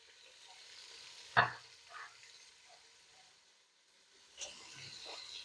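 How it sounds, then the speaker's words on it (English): Beans porridge with pepper, mixed spice, seasoning cube and crayfish being stirred in a pot, giving a quiet simmering sizzle with a couple of sharp scrapes of the spoon against the pot. "Then we stir."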